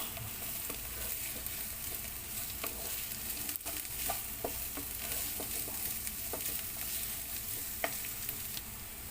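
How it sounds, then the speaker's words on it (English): Vegetable fried rice with kikiam and carrots sautéing in a hot pan: a steady, close sizzle with scattered light clicks and scrapes of stirring, continuous throughout with no talking. "And just saute"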